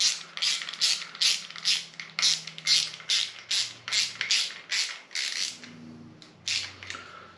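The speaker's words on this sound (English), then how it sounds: "we'll do the same thing with the end stop of just putting the screws in and making them come out a little bit just to get them started" Screws being hand-driven into the end stop of an F-Press, heard as a close, steady series of rhythmic ratcheting clicks, about two per second, with a brief pause near the end.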